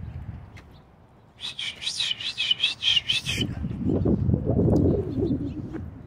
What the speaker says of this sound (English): Oh, no, that's a seagull.